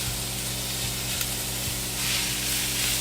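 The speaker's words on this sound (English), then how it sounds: "And I'm breaking it up with the spatula." About two pounds of ground beef searing in a pan on high heat, a loud, continuous close sizzle and hiss with faint spatula scrapes as the meat is broken up.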